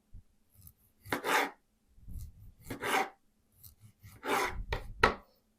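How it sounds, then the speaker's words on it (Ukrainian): Knife slicing tomatoes into rings on a cutting board, several quick cuts with pauses between, each ending in a light tap on the board. "Отже, помідори нарізаю"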